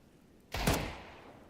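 A single heavy Desert Eagle pistol shot in Counter-Strike, one sharp loud crack with a short fading tail, standing alone against quiet background.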